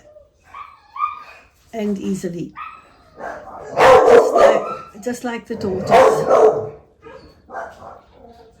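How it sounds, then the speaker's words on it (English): Dogs bark loudly in repeated bursts, two strong volleys standing out over a person talking steadily indoors, with quieter yips between. "Apologies for the dogs."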